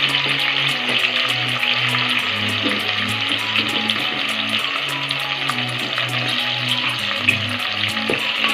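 Ginger garlic paste frying with onions and green chilies in hot oil for biryani, a loud, close, continuous sizzle with a faint stirring scrape and a low hum underneath.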